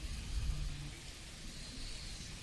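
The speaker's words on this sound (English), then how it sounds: "the heavy rains start to pour now" Heavy rain pours down during a varsity baseball game, a steady broadband hiss of downpour with a low rumble, continuous and fairly even throughout, with no talking.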